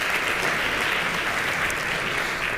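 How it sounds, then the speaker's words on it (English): Brief, dense applause from a conference audience at a React Native developer talk, loud and steady from start to finish. "This might have been the first time someone is getting applause for showing this"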